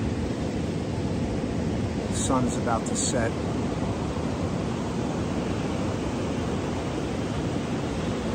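Steady ocean surf forms a broad, constant wash in the background at sunset, while a calm voice speaks briefly over it.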